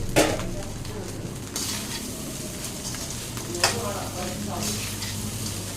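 Fried chicken stirred into hotel-style fried rice in a hot pan: continuous sizzling with scraping and clinking of a utensil against metal, including a few sharper knocks.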